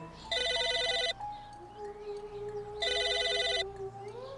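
Phone ringing in the video game Psychonauts, two electronic rings with a pause between them, a steady tone audible in the gap.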